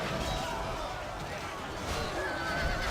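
Horses neigh and whinny amid a dense battle din in Medieval 2 Total War, Turks against Scotland, with clip-clop and crowd noise under steady loud play.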